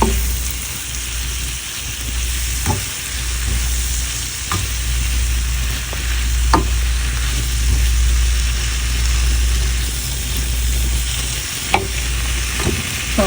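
Malabar spinach being stirred into spiced prawns in a pan, a steady loud sizzle with scraping spatula strokes and occasional clinks repeating throughout, no voices.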